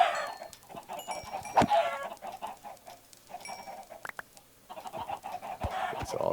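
Several chickens in Minecraft cluck in short, scattered bursts, close and fairly loud, with sharp clicks and thumps between calls.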